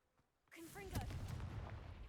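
The Confringo fire spell goes off in Hogwarts Legacy after a near-silent start: a sudden loud blast and whoosh, then a sustained crackling roar with sharp bursts.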